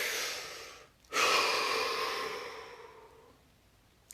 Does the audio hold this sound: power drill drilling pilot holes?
no